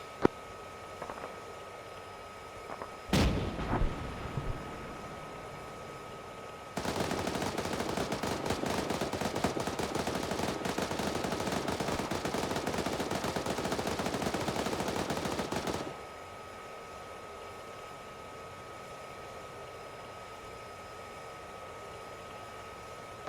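Sustained automatic gunfire from an M1A1 tank platoon in a combat video game: a single sharp shot, then a dense, loud burst running for about nine seconds before cutting off to quiet ambience.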